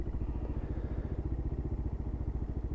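A motorcycle engine with a clutch problem runs in neutral, a steady low, rapid thudding pulse at close range throughout, with no voices.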